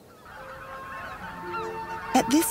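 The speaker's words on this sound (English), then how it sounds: "At this time, you can see the largest number of greater white-fronted geese." Greater white-fronted geese honk at Lake Miyajima in mid-April, with a distant flock murmuring before two loud, close honks ring out near the end.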